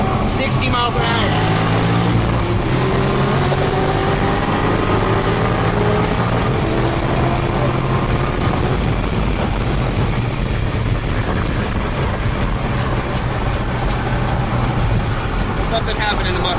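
Dodge Viper and Ford Mustang Cobra racing side by side on a Mexican highway at high speed, a loud continuous engine drone with rising revs and wind roar, with a voice talking over it.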